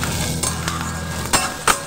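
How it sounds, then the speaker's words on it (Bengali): Onions frying in a pan for masoor dal, with a steady close sizzle, a low hum underneath and a few sharp clinks and scrapes of a utensil stirring against the pan. "ভালো করে পেঁয়াজটা ভেজে নেব।"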